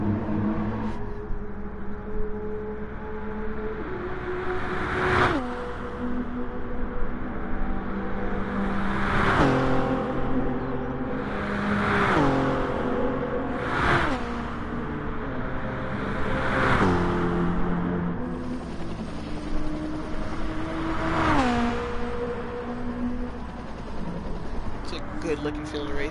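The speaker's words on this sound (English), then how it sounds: "Good looking field of race cars." GT3 race cars in a sim racing game at Sainte-Croix accelerate in repeated surges, engine notes rising and cutting every few seconds under steady commentary.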